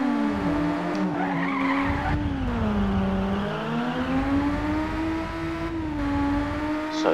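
A car in the Ridge Racer Type 4 video game holds a long drift, a loud continuous tire squeal wavering in pitch over the steady engine drone, no talk.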